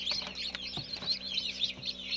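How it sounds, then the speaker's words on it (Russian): Quail chicks peep and chirp in quick, overlapping high calls while hatching in an incubator, steady and close with no talking. "У нас дружелюбно перепелки вылупляются"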